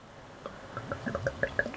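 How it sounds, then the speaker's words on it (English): Cotleigh Osprey beer is poured from a bottle into a glass, giving soft wet glugs and fizzing drips that grow a little busier toward the end, quiet and close with no talk. "I'm going to get it out into the glass anyway."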